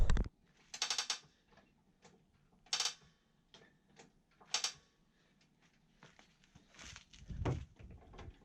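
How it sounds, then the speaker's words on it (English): Mechanical ratcheting and clicking of a spring compressor being worked on a Jeep JK coil spring, coming in short bursts separated by pauses, with scattered metallic ticks and a heavier clunk near the end. "all the labor is going to be trying to compress this enough with that spring compressor to pop this one in"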